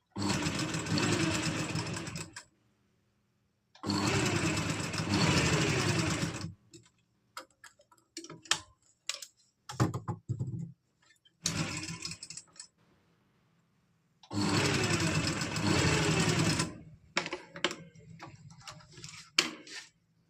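A sewing machine runs in several sustained bursts while stitching piping on an umbrella frock, each burst a steady rapid chatter, separated by quiet pauses filled with clicks and handling noises.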